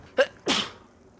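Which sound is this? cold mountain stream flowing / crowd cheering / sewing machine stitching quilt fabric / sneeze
sneeze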